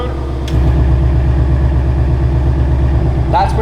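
A Ford Mustang in track mode idles nearby with a loud, throbbing, pulsing rumble that jumps up in level after a short quiet start, with a brief voice near the end.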